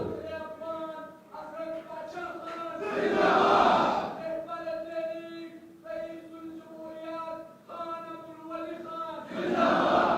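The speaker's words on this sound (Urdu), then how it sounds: "اچھا میرے بھائی جو آپ نعرے لگا رہے ہو، آپ کا نعروں کا بہت شکریہ" Crowd at a political rally in Peshawar shouting slogans in loud surging bursts, with rhythmic chanted calls rising and falling over several seconds, voices layered and reverberant.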